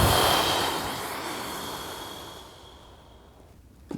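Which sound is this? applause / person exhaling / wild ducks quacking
person exhaling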